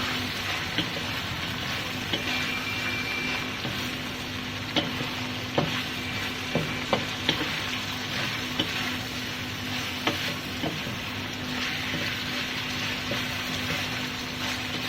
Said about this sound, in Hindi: तुरैया डाल के तो थोड़ा सा हम भूनेंगे ताकि तुरैया अच्छी तरह से गल जाए